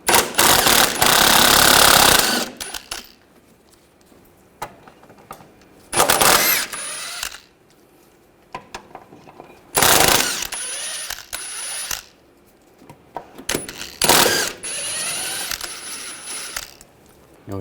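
A 16mm socket on a ratchet wrench clicks rapidly in bursts while a rear control arm bracket bolt is removed on a 2011-2018 Volkswagen Jetta. The loud ratcheting runs in several separate spells with quiet gaps between them.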